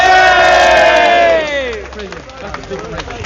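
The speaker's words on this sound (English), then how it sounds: "Come on, give him another round of applause." An outdoor protest crowd at Downing Street against digital ID sends up a loud burst of cheering and shouting that tails off over a few seconds, leaving scattered voices and some clapping.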